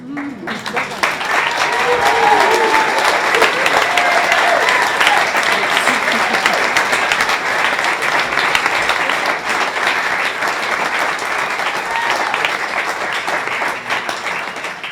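Sustained audience applause at a poetry reading event fills the room, dense and steady from start to finish, with a few voices faintly mixed in.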